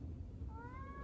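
A single cat's meow rises partway through and holds for about half a second, fairly faint against a steady background hum, with no talking.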